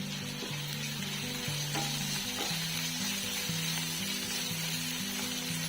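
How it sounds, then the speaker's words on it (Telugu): Tomato pieces fry with onions in a pan for an egg curry, giving a constant close sizzle under a low droning hum, with a few faint scrapes and no voices. "ఇప్పుడు నేను టమాటా పీసెస్ యాడ్ చేసుకుంటున్నాను."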